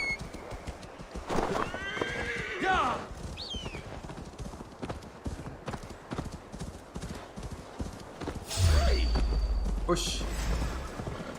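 Horse whinnies and clip-clopping hooves in the video game Assassin's Creed Valhalla, the neigh rising clearly early on with steady hoof beats throughout, under game ambience and a low rumble near the end while a player talks briefly.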